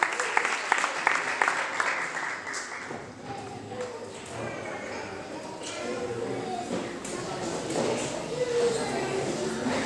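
Audience applauding at a school spelling bee contest, a steady broadband patter of clapping across the whole stretch with some speech mixed in.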